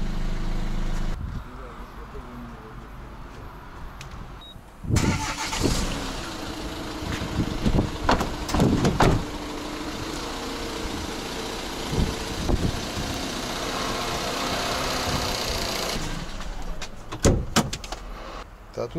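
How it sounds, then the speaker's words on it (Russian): A box-body truck with a hydraulic tail lift runs its engine, a steady broadband rumble under frequent talking, with door-like knocks and clunks scattered through it. "а мотор вообще работает сейчас"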